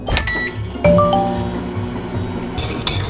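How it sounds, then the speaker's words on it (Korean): A microwave oven running while melting Melona melon ice cream, a steady hum with a couple of clinks and a short beep near the start and a brief bright tone near the end. "전자레인지로 고."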